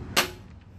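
An airsoft gun fires a single sharp, loud snap at point blank, a brief crack that decays quickly, followed by faint ambient noise with no talking.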